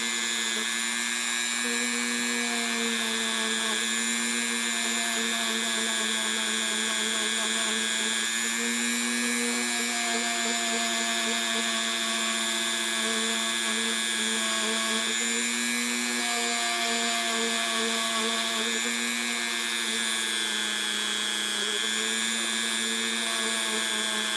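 A Dremel rotary tool buffs gold jewelry with buffing compound, giving a steady high-pitched whine that holds for the whole stretch with slight pitch shifts as pressure changes.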